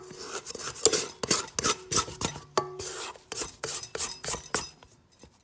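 A plastic dough scraper works palet breton dough in a bowl, folding without mixing, giving a run of short rasping scrapes and soft thuds in an uneven rhythm, close and fairly loud, with no talk.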